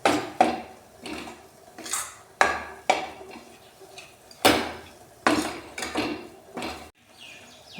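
A utensil scrapes and knocks against a pan in irregular bursts while flour roasts in ghee for kada prasad, loud close clatters separated by short pauses.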